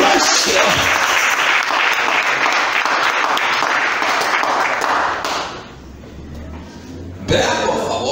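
Church congregation applauding loudly and steadily for about five seconds, then the clapping drops away to a quieter murmur before a burst of sound returns near the end.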